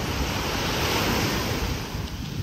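Ocean waves wash up on a beach at night, a steady, loud rush of surf with wind noise filling the whole clip, no voices.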